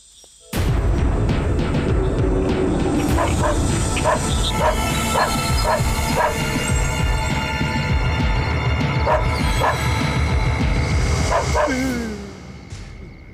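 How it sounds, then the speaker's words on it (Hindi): A dog barks repeatedly in a rhythmic series of sharp, close barks, some yelping, over a loud noisy background, starting abruptly and fading near the end. "ये कुत्ता क्यों भौंक रहा है?"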